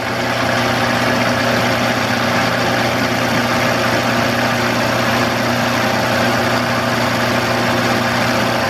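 Steady, loud, continuous drilling of a pilot hole in cast aluminum for a flame licker engine, with a constant whirring drone and no talking.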